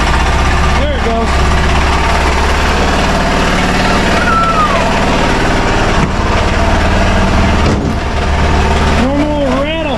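An Arctic Cat Prowler 500 side-by-side idling after carburetor repair, a loud, steady, close engine drone with a constant low rumble that stays unbroken throughout, while brief chirping sounds occur over it.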